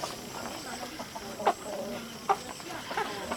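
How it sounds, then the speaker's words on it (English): Chickens, including a rooster, cluck softly in a farmyard with a couple of sharper squawks, set against low background noise and no clear talking. "And that's a rooster right there, I can tell."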